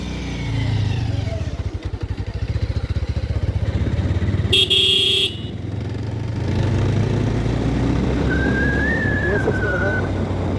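Motorcycle engine droning steadily on a local road, with one loud horn blast in the middle and a rising whistle-like tone near the end; people talk throughout over the engine.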